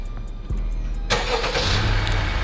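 A Honda car engine, started by remote start, turns over and catches after a couple of faint clicks, then settles into a quiet, low idle.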